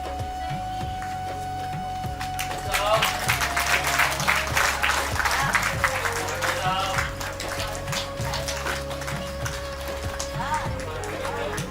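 An audience at a Yoga Day event breaks into applause for the founding members that builds and holds over a humming background with a low rhythmic pulse.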